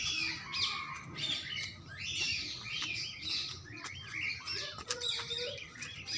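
Parrots squawk at a zoo, with repeated harsh calls and chirps at moderate distance over steady outdoor ambience.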